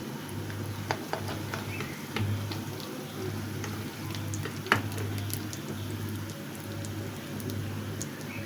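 Jhal barushai snacks frying in hot oil give off a quiet, continuous bubbling sizzle with scattered small pops and ticks, close by and without talk.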